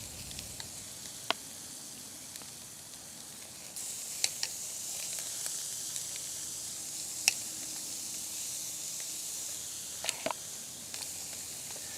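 Thin-cut boneless pork chops sizzle on a portable fire pit, a steady hiss with scattered crackles and pops, louder after the first few seconds and going on without talk.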